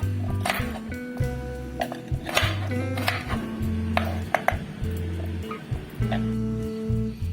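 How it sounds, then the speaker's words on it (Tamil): A knife cutting amla gooseberries into small pieces, with a run of sharp, irregular taps and clicks against a cutting surface over a steady low background hum. "நான் வந்து எல்லா நெல்லிக்காயும் இந்த மாதிரி எடுத்து நான் சின்ன கட் பண்ணிக்கிறேன்"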